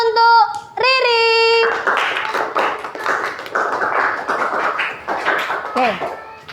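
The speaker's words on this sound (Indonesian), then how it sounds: "Tepuk tangan untuk Riri." A classroom of schoolchildren claps during an Islamic religious education lesson on the Asmaul Husna. A voice is heard briefly at the start, then dense, steady clapping from many hands runs to the end.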